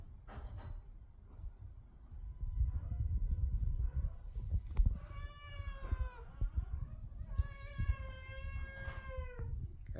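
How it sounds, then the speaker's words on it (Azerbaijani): A pet cat in an apartment gives two drawn-out, rising-and-falling meows in the latter half, close and clear over a low room rumble, with a few fainter mews earlier. "Qəşəng pişiyimiz də var."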